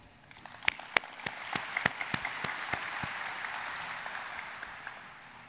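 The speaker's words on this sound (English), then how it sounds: "So, applause to all of you." Audience applause at a port authority event, a sparse scattering of claps at first that swells into steady, moderately distant clapping from a room full of people.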